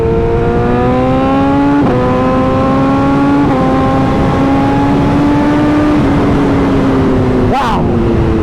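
A 2013 BMW HP4 sport motorcycle engine pulls hard while riding, its loud tone climbing through repeated gear changes with brief dips between shifts, plus wind noise and a short burst near the end.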